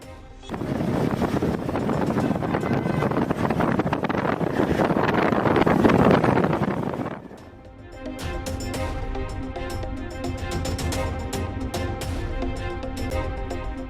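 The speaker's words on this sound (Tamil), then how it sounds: "தெலங்கானா மாநிலம் ஐதராபாத்தில் காற்றுடன் கூடிய கனமழை." Heavy rain driven by strong wind in Hyderabad, Telangana, roars as a loud, dense rush that buffets the microphone for several seconds, then cuts off abruptly into quieter, steadier sound.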